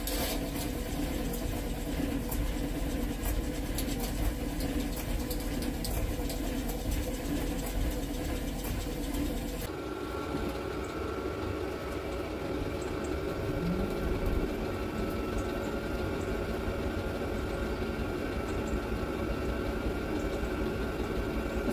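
A hoverboard motor spun by a spin bike and run as a 12 V generator gives a steady mechanical whir and hum. Its tone shifts abruptly partway through, and it keeps running evenly with no talk.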